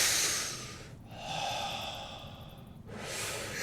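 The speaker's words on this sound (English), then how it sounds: "Try and control my breathing." Heavy breathing close to the microphone: a long airy exhale, a slow noisy inhale, then another forceful breath out, fairly quiet, with no speech.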